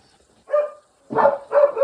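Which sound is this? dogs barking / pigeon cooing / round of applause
dogs barking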